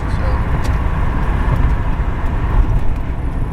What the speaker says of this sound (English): I can just shift it into 5th as an overdrive